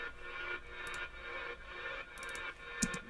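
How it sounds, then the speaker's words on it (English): A granulated ambience built from a horn section, with sustained, shimmering tonal layers swelling and fading and a few brief bright bursts, all continuous and fairly quiet with no talking. "And here's an ambience that is made out of the horn section."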